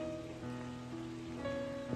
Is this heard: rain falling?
yes